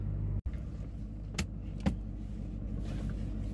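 A 2008 Ford Mustang GT with a 4.6L 3V V8 sits ready for a drive, its low engine rumble steady underneath a few sharp clicks and a brief dropout near the start, with no voices.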